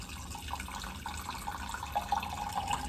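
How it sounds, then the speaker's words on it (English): Plain water poured from a vase into a bowl, a close steady trickle with small splashes and drips rising toward the end, no voices. "I'm just going to go ahead and pour this into my bowl."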